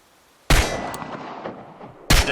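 Two sharp pistol shots at targets in Chernobylite, about a second and a half apart, each a loud crack followed by a ringing, echoing decay, close and alone.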